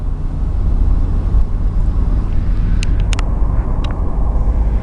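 An old Subaru four-wheel-drive car cruises at around 50 to 55 with four-wheel drive engaged, producing a loud, steady low engine and road rumble from inside the cabin, with a few faint clicks and no talk.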